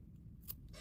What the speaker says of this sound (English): then just cut your yarn